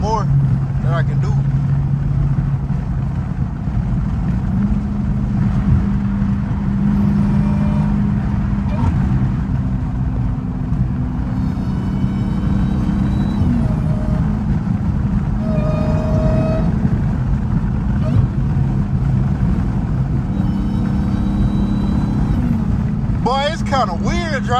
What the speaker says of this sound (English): it's kind of weird driving this bit with one hand and trying to shift and downshift